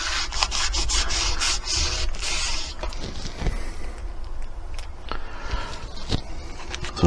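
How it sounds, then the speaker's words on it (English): Wax rubbed along the edge of a wooden cottage-style coat rack with cubbies: continuous close scrubbing and rubbing strokes, loud and steady, with brief scuffs and taps, no talking. "A little bit of wax just on the edge there. Rub it along those areas that need it."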